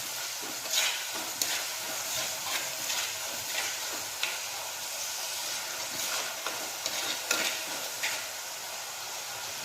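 Onions frying in a pan for a spicy tripe curry, a soft continuous sizzle broken by scraping stirs at irregular intervals, close and alone without speech.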